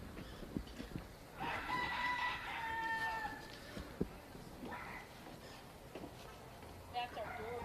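A rooster crows on a Key West backstreet: one long, drawn-out crow, then a few shorter calls. It sounds faint and somewhat distant over quiet outdoor background noise.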